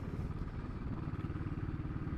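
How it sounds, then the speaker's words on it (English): Exhaust note of a Royal Enfield Classic 500 motorcycle while riding through a city, a low pulsing thump that rumbles continuously and steadily, fairly quiet, with no talking. "The exhaust is loud enough so everyone knows where you are at all times on the road."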